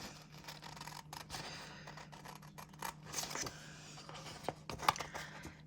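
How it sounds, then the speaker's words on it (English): Scissors snip through paper to cut out a decorated paper Christmas tree in a journal, a series of soft crisp cuts close by with a few sharper snips near the end. "I am just going to cut the tree right out."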